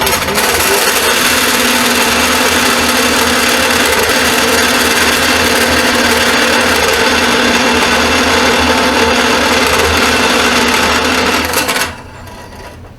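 A saw cuts through metal plates in a home workshop, a loud continuous grinding whine held steady for about twelve seconds before stopping abruptly near the end.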